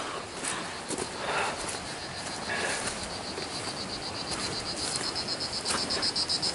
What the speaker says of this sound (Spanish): Es tiempo de las chicharras.